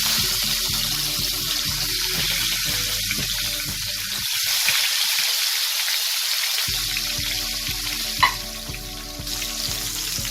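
Hilsa fish pieces, rubbed with salt and turmeric, slide one by one into hot oil and fry with a loud, continuous sizzle. The sizzle dips briefly in the middle and ends with a small clack near the end.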